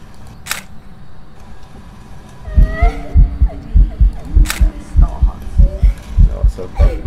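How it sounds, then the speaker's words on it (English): A heartbeat in the horror video game Phasmophobia thumps in a steady double-beat rhythm, loud and close, starting a few seconds in after a quieter stretch with brief sharp clicks. "Because with Nikolai, I can hear the heartbeats because I'm sitting next to him."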